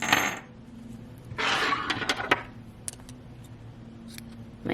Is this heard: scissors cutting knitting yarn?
yes